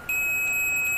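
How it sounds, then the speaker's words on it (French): A continuous high-pitched electronic beep starts abruptly and holds steady, close and clear, from a multimeter continuity test on a mobile phone. "Je fais le test de continu, vous voyez, ça bip."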